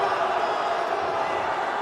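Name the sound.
wrestling crowd reacting with disapproval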